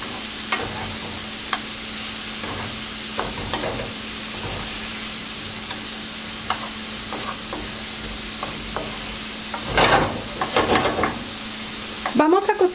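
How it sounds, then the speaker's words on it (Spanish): Zucchini seasoned with paprika, salt and pepper is stirred in a sizzling frying pan: a steady fry hiss runs beneath scattered scrapes of the spoon, with a louder burst of clattering stirring near the end. "Y la cucharada de paprika. Mezclamos todo muy bien."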